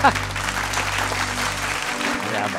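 Studio audience at a Marathi comedy talk show breaks into steady, dense applause, a broad even wash of clapping that holds for a couple of seconds before easing off.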